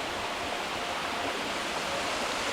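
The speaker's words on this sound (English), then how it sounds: "this will be the first upper part of the waterfall" Upper cascade of Waterfall Creek Falls in Coorabakh National Park, a steady, even rush of falling water with no breaks, heard from nearby.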